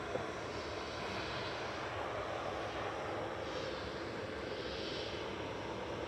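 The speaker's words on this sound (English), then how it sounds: "This is flight 5624 for Ryanair 737-800 EBG." A Ryanair Boeing 737-800 takes off at Manchester Airport, producing a steady, broad jet roar that holds at an even level throughout, with no talking.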